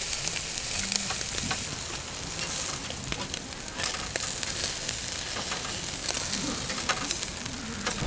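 Meat sizzles on a Korean BBQ camping grill outdoors, giving a steady, crackling hiss of frying fat with scattered pops throughout and no clear talk over it.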